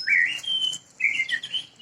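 White-rumped shama (murai batu) chirping in two bright, clear phrases of rising and trilling whistles, close and fairly loud, with no talk.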